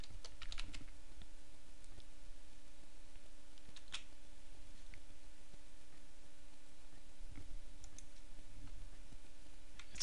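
Steady typing on a computer keyboard while an invoice amount is entered into ERP accounting software, with clustered key clicks at a moderate pace, close and fairly quiet, and no one talking.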